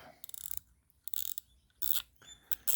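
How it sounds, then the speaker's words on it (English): The drag on a fishing reel is unscrewed counterclockwise, giving bursts of quick, close ratcheting clicks separated by short quiet gaps. "undo the drag system until that comes off"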